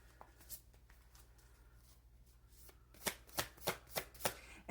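A deck of tarot cards is shuffled by hand: quiet rustling at first, then a run of six crisp, evenly spaced riffles, close and loud.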